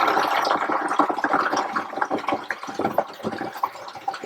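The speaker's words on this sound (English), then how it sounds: "we'll just pour the wort or the dissolved malt syrup with sugar into the" Wort of dissolved malt syrup and sugar, still very hot, is poured into a fermenter for a first homebrewed beer, giving a steady splashing, gurgling rush of liquid that runs close and continuous throughout.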